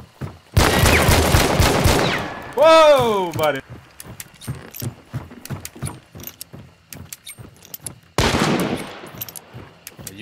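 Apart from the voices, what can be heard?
gunfire in a video game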